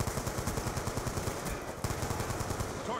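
Rapid bursts of machine gun fire in a multiplayer shooter game, close and loud, with a short gap partway through before the rattling automatic shots resume.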